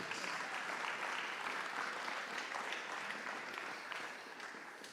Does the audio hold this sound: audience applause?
yes